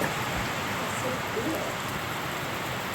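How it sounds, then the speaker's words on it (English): Steady, dense hiss of rain falling during a storm in the Grayson Highlands, constant and even throughout with no breaks. "And now it's raining."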